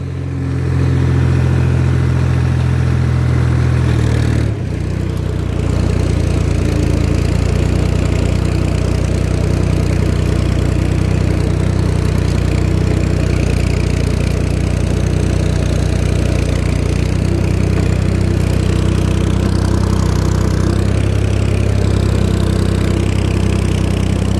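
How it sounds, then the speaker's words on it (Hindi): A loud, close tractor engine drones steadily and heavily under load, a deep laboring rumble that holds without letup after a brief shift early on. "अब जोर लग रहा है ट्रैक्टर का।"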